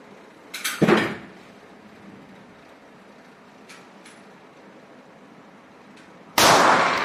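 Handgun shots at an outdoor shooting range: two loud, sharp reports, one near the start and another about five seconds later, with faint clicks and quiet ambient noise between them.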